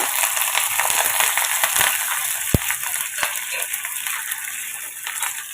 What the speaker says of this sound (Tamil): வெங்காயம் பூண்டும் வதக்கியாச்சு